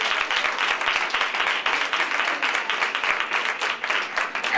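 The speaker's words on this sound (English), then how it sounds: "Yes, we should clap." Church congregation applauding at a pastor's second anniversary banquet in Detroit, a steady dense patter of many hands clapping throughout at moderate loudness, with no speech over it.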